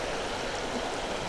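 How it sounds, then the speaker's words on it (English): A stream flows along a hiking trail at Sprague Brook, a steady, even broadband rush of moving water, close and continuous with no voices over it. "That's a nice stream."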